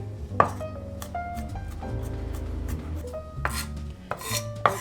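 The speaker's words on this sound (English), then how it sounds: "we're just going to chop up some garlic" A kitchen knife chops two garlic cloves on a cutting board in a series of irregular, crisp taps, close and fairly quiet, with light ringing clinks in between.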